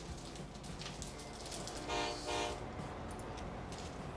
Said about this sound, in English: Let's see these trains depart.